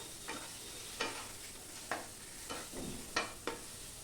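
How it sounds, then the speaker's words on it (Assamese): Onion, ginger and garlic fry with turmeric and Kashmiri chili powder for chana dal, a quiet sizzle broken by several soft scraping stirs of a spoon in the pan. "এইখিনি দি অকণমান ভাজি ল'ম।"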